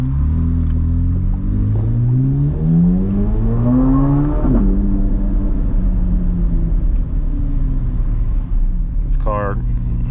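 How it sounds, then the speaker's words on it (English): A Chevrolet Corvette C8 Z06 on its stock exhaust revs up in a rising howl through the gears, then settles into a loud, deep rumble, with a brief sharp whine near the end. "Car sounds so amazing. Stock exhaust sounds amazing"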